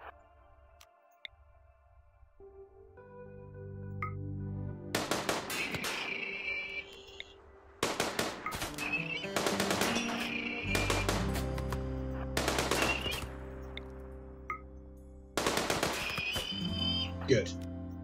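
Gunfire in the colony-building game RimWorld, sharp bursts and popping shots in several clusters with sustained electronic tones, game sounds alone.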